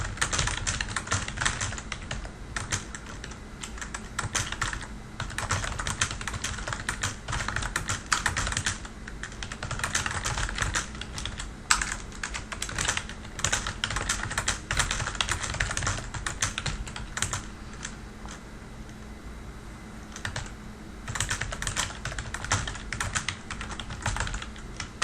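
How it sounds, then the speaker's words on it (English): Steady typing on a computer keyboard continues throughout, keys clicking in a continuous uneven rhythm, close and moderately quiet, with no voices. "I'll just type in more text."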